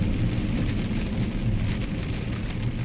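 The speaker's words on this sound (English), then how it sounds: "It's raining, but it's not raining hard, and it feels good." Light, warm rain patters steadily around a moving car during a food delivery drive, a dense, even wash of noise with low road rumble beneath and no talk.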